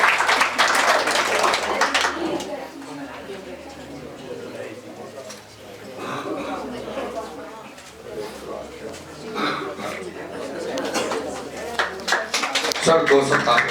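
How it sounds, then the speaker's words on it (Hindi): Audience applause at a coaching classes' annual function, bursts of clapping at the start and end with talk and crowd noise in between. "एक बार जोरदार तालियां हो जाए"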